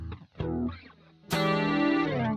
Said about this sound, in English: we'll throw in a distortion as well